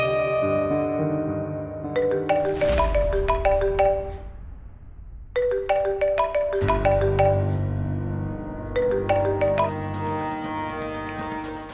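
A melodic phone ringtone plays loudly in repeating chiming phrases, pausing briefly before the tune starts over.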